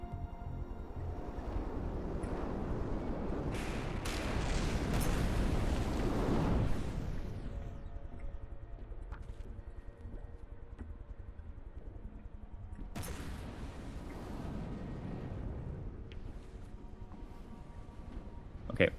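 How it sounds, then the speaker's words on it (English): Missiles firing in From the Depths, rushing launch blasts and rumbling booms over an ocean setting, a loud roaring surge fading out then another burst later, with ongoing background rumble. "Okay, more missiles firing."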